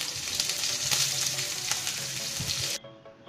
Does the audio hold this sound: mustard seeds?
yes